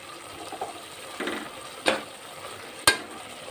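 Green chillies frying in a pan for a breakfast rice dish give a soft, steady low sizzle, stirred now and then with a few sharp spatula clinks against the pan.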